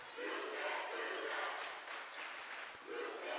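A high school volleyball crowd in an IAC gym roars and cheers, a broad, sustained wash of voices that swells and dips slightly, heard at a distance.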